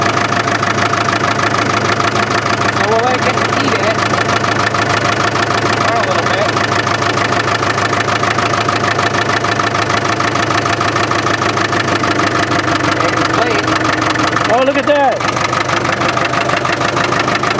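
A 1965 International TD6 diesel dozer engine runs steadily at idle on its first start in years, a continuous low rumble throughout with a few brief voices over it.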